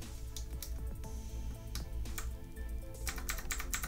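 HyperX Pudding keycaps are pushed onto a keyboard, giving a series of close, crisp plastic clicks and snaps at an uneven pace over faint background hum, with no speech.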